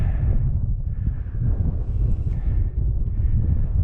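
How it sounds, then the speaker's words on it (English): Wind gusting across the open White Sands dunes, a continuous loud low rumble buffeting the microphone, steady throughout with slight surges. "the wind just blows across these, continually reshaping"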